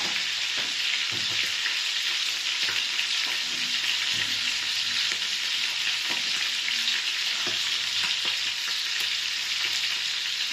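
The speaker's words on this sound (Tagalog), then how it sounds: "Napuno na ang talsik ng mantika." Fish for sarsiyadong isda fries in spattering cooking oil, a loud, continuous hiss dense with popping crackles and no voices.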